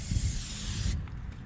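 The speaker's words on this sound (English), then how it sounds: "so spray it down pretty heavily like that." Water sprays hard from a nozzle onto a truck tire during a home car wash, a loud, close, steady hiss that cuts off abruptly partway through.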